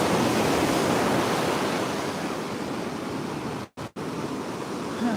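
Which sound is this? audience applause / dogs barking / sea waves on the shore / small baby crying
sea waves on the shore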